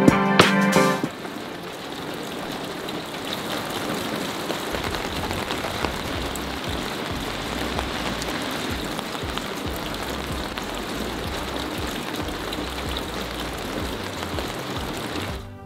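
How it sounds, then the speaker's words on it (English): Steady rain falls on a rainy day, a dense even patter on hard surfaces that continues for the whole stretch after a short brief sound at the start. "That is one rainy day."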